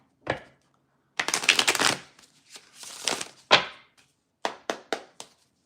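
Tarot cards are shuffled by hand in close, crisp bursts of riffling and flicking, followed by a few separate sharp taps as the deck is squared.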